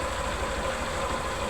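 A Honda Fan 125 motorcycle engine, fitted with a Titan 150 connecting rod and cylinder and running with an engine noise, idles with a steady, even mechanical drone and rhythmic low pulsing, heard close and alone.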